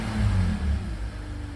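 BMW E46 330ci engine revving as the throttle is stabbed during O2 sensor diagnosis, a brief loud rise in engine roar that quickly settles back to idle, no talking.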